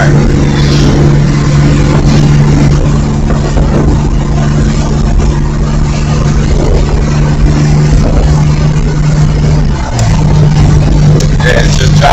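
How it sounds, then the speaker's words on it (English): A 1994 Chevy OBS pickup truck drives along with a steady, loud engine drone heard from inside, and near the end the pitch dips briefly as the transmission shifts into overdrive. "it's just dropping the overdrive, so I know all the gears are working"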